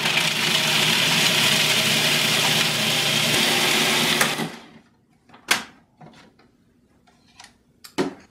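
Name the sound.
food processor processing nuts into nut butter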